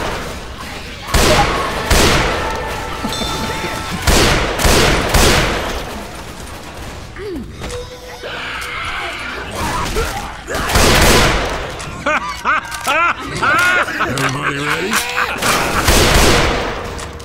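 Loud bursts of rifle fire in Left 4 Dead 2, with several rapid volleys spread through the clip among chaotic in-game combat noise and effects.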